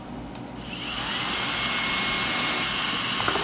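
A MECO compact rechargeable mini blower/duster runs steadily, its airflow rising into a loud, continuous high-pitched whine and rush of air that holds from the first second to the end, with no talking.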